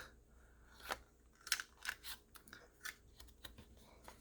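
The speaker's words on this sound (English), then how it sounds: "I have here my corner rounder, and I'm just going to do these top corners, maybe all four corners" A corner rounder punches through stacked paper card corners for bookmarks and artist trading cards, giving a series of quiet, crisp snipping clicks in an irregular rhythm, close up.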